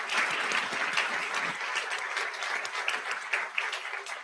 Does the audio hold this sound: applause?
yes